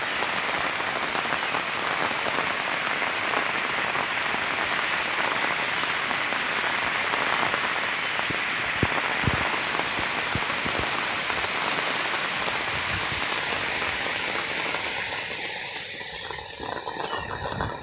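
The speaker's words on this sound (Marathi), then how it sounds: "पाऊस आता 3 दिवस चांगलाच पडतोय" Heavy monsoon rain pours down steadily over waterlogged fields for the whole stretch, a dense hiss of drops hitting surfaces, close and loud without pause.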